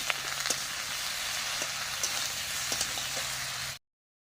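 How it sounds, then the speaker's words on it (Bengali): Bottle gourd sautéing in a pan, a close, steady soft sizzle with occasional small pops and clicks that cuts off abruptly near the end. "এবারে লাউগুলো দিয়ে দেব। লাউ দিয়ে আবারও ভালো করে কষাবো।"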